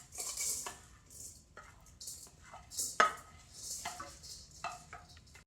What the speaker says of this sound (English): I'm going to put it all in a bowl so that I can then mix in my yeast with it.